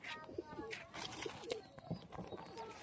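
Standing kharan pigeons coo softly in a few short, low, throaty bursts, faint and close, with light background chatter.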